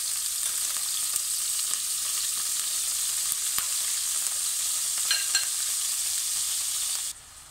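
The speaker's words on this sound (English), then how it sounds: "And these are going to fry. And obviously there's quite a few onions to fry." Onions frying in oil in a pan, a steady dense sizzle with occasional crackles and pops, loud and close, cutting off abruptly near the end.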